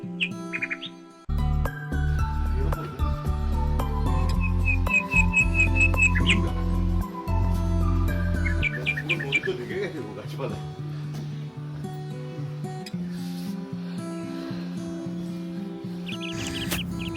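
Birds chirping and whistling at a monsoon resort in the Dooars, beside the Sisamara River, near tea gardens and jungle, with repeated bright calls heard over a steady low background and a voice speaking.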